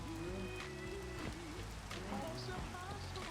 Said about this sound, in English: I can't deal with this rain.